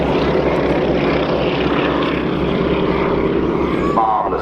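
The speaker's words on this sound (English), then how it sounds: "Stearman, of course, originally had 220, 230 horsepower engine" A Boeing Stearman biplane with a 220–230 horsepower radial engine drones loudly overhead during a wingwalking air show display, a steady close propeller roar throughout.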